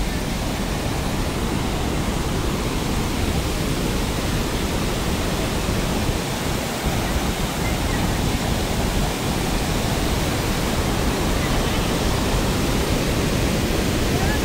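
Niagara Falls at the Cave of the Winds roars as a dense, unbroken wall of rushing water and spray, loud and steady all the way through with no pause.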